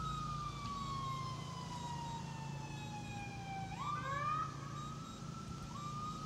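Emergency vehicle sirens wail through Charleston during a severe tornado storm, a long falling tone sliding down, then a second siren overlapping with rising and falling sweeps, moderately distant over a low steady rumble.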